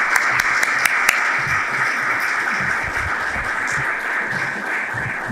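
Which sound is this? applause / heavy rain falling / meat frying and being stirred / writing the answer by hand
applause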